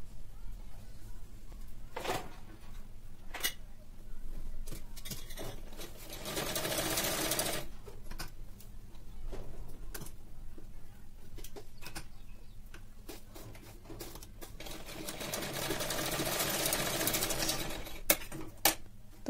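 A sewing machine stitching a blouse runs in close bursts of rapid mechanical whirring, several runs separated by brief pauses with small clicks and handling noises, no talk.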